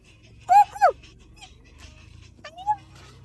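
A dog gives a couple of short, high, wavering whimpers close by: a quick pair, then a lone whine after a pause, over quiet background noise.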